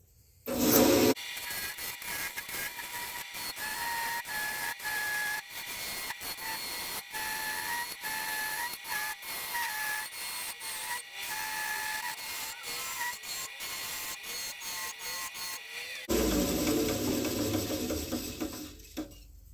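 Segmented wood bowl spinning on a woodturning lathe as the tool cuts, giving a steady hissing, rubbing scrape with a sustained motor tone, louder bursts at the start and end.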